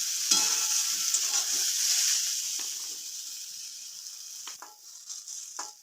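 Barbati (long beans) and potatoes frying in a pan, a soft steady sizzle with a few spoon-stirring clicks, heard close and fairly quiet with no talk.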